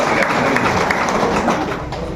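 An audience at a foundation's honouring ceremony gives dense, loud applause for honoured guests, with sustained clapping filling the whole moment.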